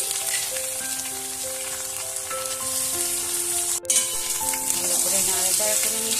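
Steady, loud frying sizzle of onions frying with garlic paste stirred in runs throughout, with a brief clatter near the middle and no talking.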